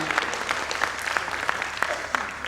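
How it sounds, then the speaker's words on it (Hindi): Audience clapping at a theatre event, a steady dense wash of applause with sharper individual claps popping out, holding at an even level for the whole stretch. "देखिए, ताली जो बजाया अपना कहीं खपड़ा फोड़ने वाले कि खपड़ा फोड़ने वाला ताली था।"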